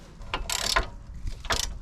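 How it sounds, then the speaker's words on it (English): A ratchet with a 15mm socket tightens the caliper bracket bolts on a Ford Fiesta EcoBoost brake, giving a few close, quiet bursts of clicking with short pauses between strokes. "let's go ahead and use our 15mm socket to tighten these down."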